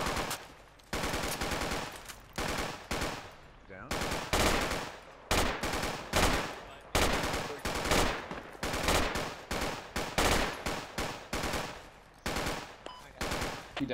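Repeated loud bursts of full-auto machine gun fire in the military shooter Project Reality, each burst a rapid rattling string of shots separated by short pauses, continuing steadily with no talk.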